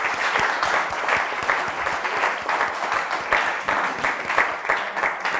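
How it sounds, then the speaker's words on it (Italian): Lively applause from a studio audience and teams on an Italian TV quiz show, rapid overlapping hand claps forming a continuous loud roar with distinct sharp claps throughout. "Bravi, fatevi un applauso"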